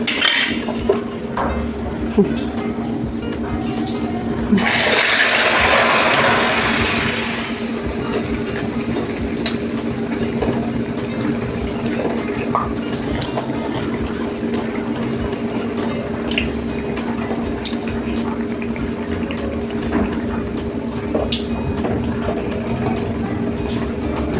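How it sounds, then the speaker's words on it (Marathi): Methi vadas fry in oil over a low flame, giving a steady soft bubbling and sizzle throughout, with a brief louder hissing burst early on and scattered light clinks. "आपण एक बारीक गॅसवर आता तळून घेतो आहे"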